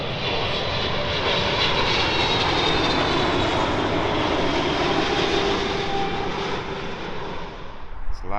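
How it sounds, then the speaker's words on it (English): A Qatar Airways Boeing 777-300 lands at London Heathrow, its jet engines giving a loud, sustained roar with a high whine, fading slightly near the end. "Qatar's 777-300 coming in from Bloke, of course."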